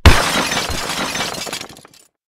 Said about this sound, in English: they both met too fast and they crashed